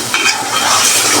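Fried eggs stirred into a sizzling pan of egg korma, a steady close hiss and crackle of frying with a soft scrape of the spoon, brief and loud with no talk.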